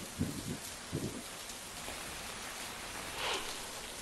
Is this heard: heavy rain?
yes